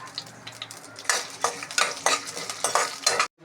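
Peanuts, split lentils and ground masala sautéing in a pan, with soft steady sizzling under repeated close scraping and stirring strokes of a utensil against the pan.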